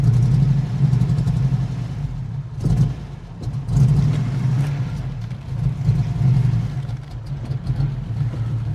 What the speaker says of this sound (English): It's misfiring now.